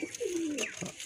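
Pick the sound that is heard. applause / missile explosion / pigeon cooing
pigeon cooing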